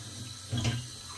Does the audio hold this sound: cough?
no